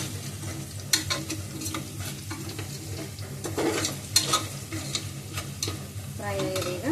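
Food fries in a pan with a steady sizzle while a utensil stirs and scrapes in repeated, uneven strokes close by.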